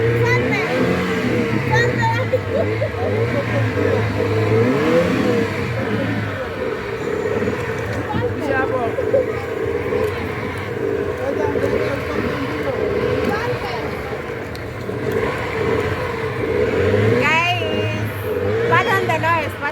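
A motorboat engine pulls away on Lake Naivasha, its steady drone loud and continuous throughout, with people talking over it.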